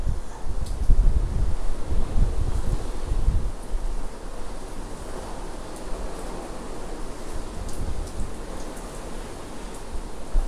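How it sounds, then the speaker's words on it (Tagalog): Hurricane Fiona's wind roars and hisses steadily around a house in Bermuda, with heavy low gusts and broadband rushing noise buffeting the microphone throughout, loudest in the first few seconds. "Sumasagitsit pa rin yung hangin."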